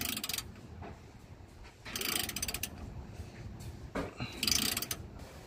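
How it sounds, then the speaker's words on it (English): A ratchet with a 17 mm socket loosens a rear shock bolt on a 1988–96 Nissan D21 pickup, giving loud, close bursts of fast clicking separated by brief gaps. "So there's a size 17 millimeter socket to loosen that up"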